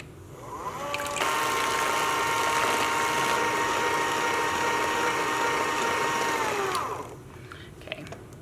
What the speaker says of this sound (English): Now we're going to whisk until it's foamy.